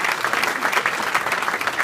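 Steady applause from an audience at an awards dinner, a dense wash of many hands clapping continuously at moderate level, no voices standing out.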